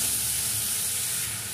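Masala for a fish head and vegetable curry frying in a pan, a loud, steady hiss of sizzling oil, close and continuous throughout.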